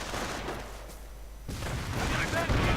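Gunfire and booming shell blasts fill a WWII strategy game battle as riflemen take losses from mines, grenades and Flak 88 fire, with a steady dense rumble, a short lull, then louder crackling bursts.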